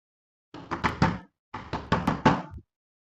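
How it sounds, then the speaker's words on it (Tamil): Two sets of three sharp knocks on a door, close and clear, separated by a brief pause, with silence before and after. "யாரோ கதவு தட்டுறாங்க"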